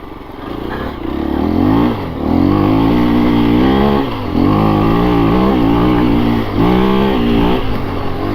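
A 2024 KTM 350 EXC-F dirt bike ridden on a trail, its single-cylinder engine loud and close, repeatedly lugging low in second gear and then revving up in surging pulls.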